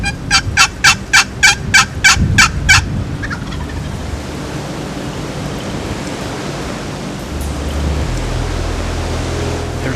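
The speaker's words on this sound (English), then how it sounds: "There's a gobbler right there on the hill, right there." A wild turkey gobbler on a hillside during a spring hunt lets out a quick burst of loud, rattling gobbles that lasts a few seconds, then fades into steady outdoor wind and hiss.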